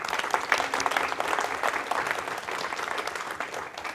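A lecture audience gives a dense burst of clapping after a talk on young people's mental health, close and sustained, easing slightly toward the end with no speech over it.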